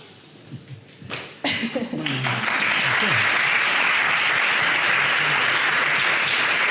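Applause starts with a few scattered claps, then swells into loud, sustained clapping from a large crowd that continues steadily.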